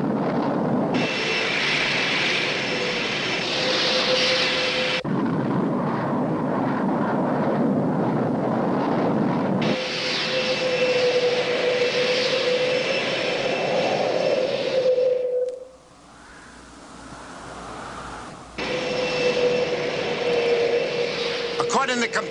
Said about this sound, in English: I have an aircraft approaching for hookup